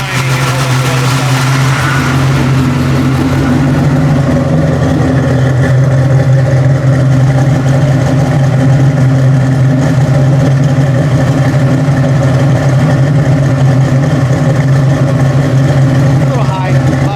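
A 1989 Mustang notchback with a freshly rebuilt carburetor idles too high, a steady rumbling drone with an even low hum that holds for the full stretch while a person talks over it.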